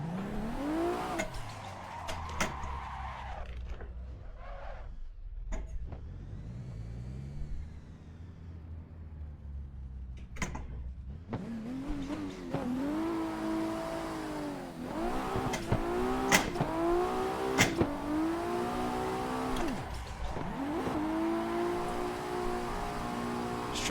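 A race car drifting around Irwindale Speedway in the Assetto Corsa video game, its engine revving hard in rising and falling sweeps over tire squeal and skidding. A short lull comes before the throttle returns in loud, repeated surges.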